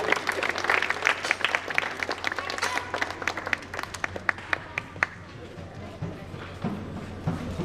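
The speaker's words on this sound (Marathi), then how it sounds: "सर्वांनी टाळ्या वाजवायच्या." An Independence Day audience breaks into brisk clapping that stays strong, then thins to scattered claps. Voices murmur underneath.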